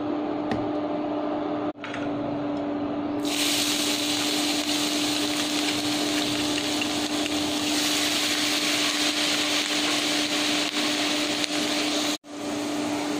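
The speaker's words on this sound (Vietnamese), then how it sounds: "Mình cho dầu ăn và mình đợi dầu ăn nóng rồi cho tỏi vào phi cho nó vàng lên." Garlic frying in hot cooking oil in a home kitchen, a steady loud broadband sizzle that swells and brightens after a few seconds and holds continuously, with a constant hum underneath and no talking.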